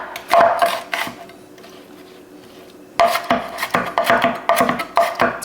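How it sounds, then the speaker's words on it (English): Onion being chopped small on a board, a run of close, sharp knife strokes in quick rhythm, pausing for a couple of seconds before resuming in steady bursts. "Again, just chop it up small."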